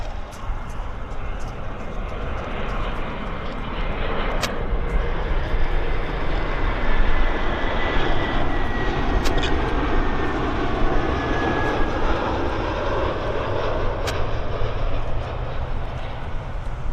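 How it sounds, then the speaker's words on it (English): An Air Canada Airbus A319 jet airliner from Edmonton on approach to Vancouver airport, heard as a steady loud roar and whine of jet engines that swells slowly across the clip, with voices talking beneath it. "It's an Air Canada A319 from Edmonton."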